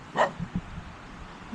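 A dog gives one sharp bark near the start, followed by a few softer low yelps and thuds, heard fairly close in an outdoor riverside setting.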